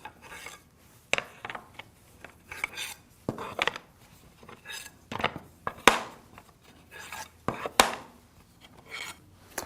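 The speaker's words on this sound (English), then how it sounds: "I'm going to flip them end for end here" Wooden tambour cabinet slats being flipped end for end on a workbench, giving irregular knocks, rattles and scraping clatter of wood against wood, fairly close, with no talk.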